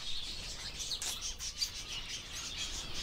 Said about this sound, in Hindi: कुछ नहीं करेंगे, कबूतर हैं।